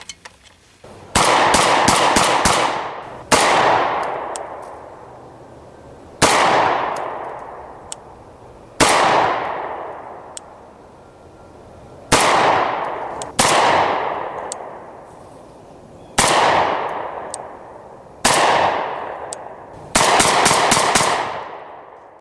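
A Rock Island Armory 22 TCM 1911 pistol fires sharp, ringing shots outdoors, some single and some in quick strings, each followed by a long echoing decay, with pauses of a second or two between them.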